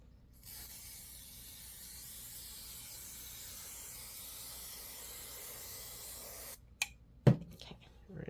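Spray adhesive hissing from an aerosol can onto fabric for a quilting project, one long steady close spray lasting several seconds, then a few brief handling clicks and rustles.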